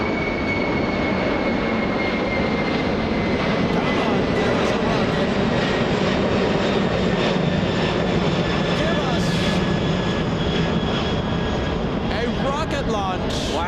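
Western Global Boeing 747, a former Japan Airlines passenger jet from 1992, taking off at Los Angeles International: a loud, dense, continuous engine roar with whining tones, under a talking voice.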